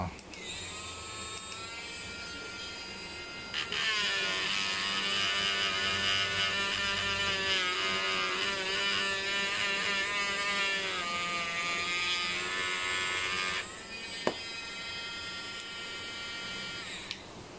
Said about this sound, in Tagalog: Using a rotating rotary tool.